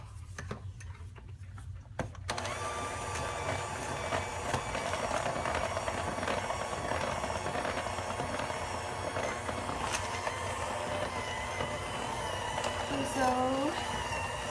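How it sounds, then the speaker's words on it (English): An electric stand mixer labors as it beats thick royal icing, a steady whirring motor drone that kicks in after a brief quiet start and runs continuously under occasional light clatter. "my mixer is struggling a little bit, but it's still not thick enough"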